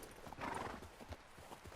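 Horse hooves clip-clopping in the video game Red Dead Redemption 2, a quiet, steady rhythmic trotting of game-sound footfalls, faint and continuous with no talk over it.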